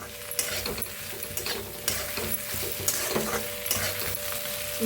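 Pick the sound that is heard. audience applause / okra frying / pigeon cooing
okra frying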